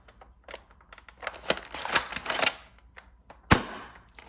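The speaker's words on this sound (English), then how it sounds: "I'm just going to do 6 shots with the Adventure Force waffle darts." A Nerf Max Striker blaster fires Adventure Force waffle darts, giving a string of about six sharp, close snapping pops with brief mechanical clatter in between, spaced irregularly and heard alone.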